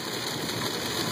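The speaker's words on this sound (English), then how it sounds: "This is some heavy, heavy rain." Heavy rain drums steadily on the highway just south of Beaver, Utah, on Interstate 15 northbound, a dense, constant wash of hiss filling the whole short stretch with no break.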